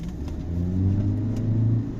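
Toyota Esquire hybrid car pulling away, a low engine hum rising and holding for a couple of seconds, close and steady with no voices.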